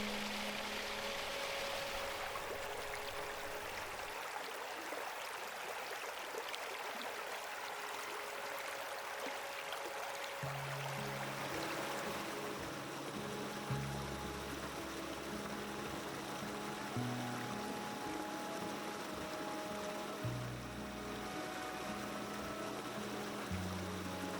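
A winter brook at Humphrey Preserve, edged with ice and with icicles forming on rocks and branches, runs in a steady, continuous wash of water throughout. It sounds moderately near and stays even, with a faint low hum underneath and no talking.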